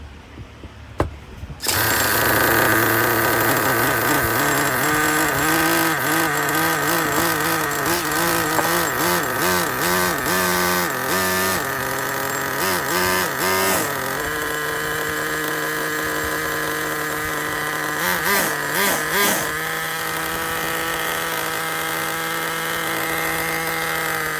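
A Traxxas Pro .15 nitro engine in an RC car starts up after low-speed tuning and runs loud and steady, a high buzzing drone that wavers in pitch as the throttle blips, close to the listener and without talk.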